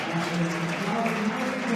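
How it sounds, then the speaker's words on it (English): Audience applause at an Interreg Stories morning session in Trieste, a brief continuous patter of clapping from a seated crowd, moderately loud, with a faint voice underneath. "thank you for your applause"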